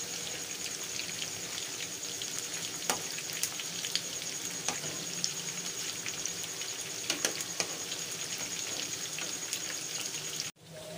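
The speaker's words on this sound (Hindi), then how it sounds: "ये देखें तो माशाल्लाह से बहुत ज़बरदस्त ये फ्राई हो गए हैं दोनों साइडों से।" Mutton koftas fry in oil in a pan, a constant soft sizzle with occasional small pops and crackles, quiet and close, heard alone without talk.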